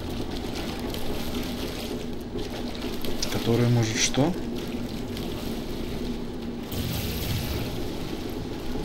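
Ordinary water in Portal 2 streams steadily as a faint, continuous wash. Someone talks over it.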